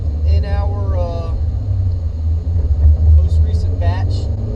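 A 1988 Mitsubishi Galant VR4 out on the road, its steady low engine and road rumble droning throughout while people talk over it in the cabin.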